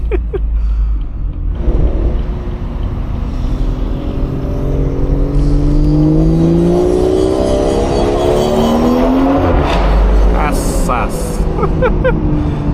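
A BMW 440i engine climbs steadily in pitch as it accelerates hard, roaring loudly and close, then drops back after shifting.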